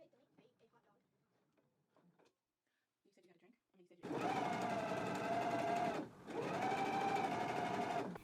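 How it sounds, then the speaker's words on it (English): A sewing machine top stitching the front pocket edge of Vogue 9008 shorts. Faint talk comes first, then two loud, steady runs of rapid stitching with a short break between them. "we are going to top stitch right along the front pocket only, right along this edge"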